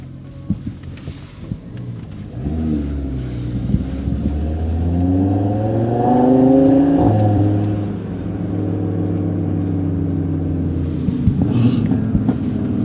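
A tuned Volkswagen Golf R sports car engine (APR Stage 3+) revs up, its pitch climbing and falling in a loud sustained roar, with brief taps and rumble around it.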